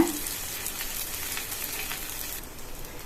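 Roti frying in a light coating of oil on a pan over a medium flame, giving a steady, close bright sizzle that holds even throughout with no talk.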